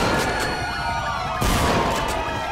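A loud police siren wails in GTA 5 during a park ranger patrol, its rising and falling tones cycling steadily and close, with a brief bump in loudness midway and no talk.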